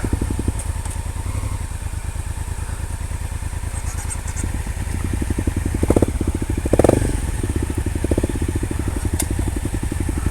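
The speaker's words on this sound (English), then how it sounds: "I want to ride this bike on this road." Honda Africa Twin 1100cc motorcycle running steadily on a mountain road at Manang, Khangsar, its engine a constant rhythmic drone with clattering and occasional louder bursts.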